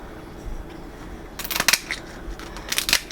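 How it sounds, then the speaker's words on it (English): A few sharp cracks and crunches of a lobster shell being snapped with kitchen scissors, brief bursts against a quiet room hum. "Just take your kitchen scissors and then turn it over and kind of smash it until you hear it crack."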